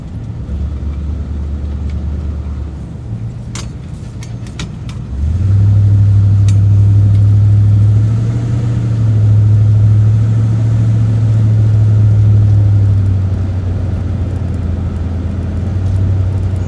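A 1957 Chevy Bel Air classic car driving, its engine a steady low rumble from inside the cabin that rises in a clear rev about a third of the way in and then holds loud and even, with no talk.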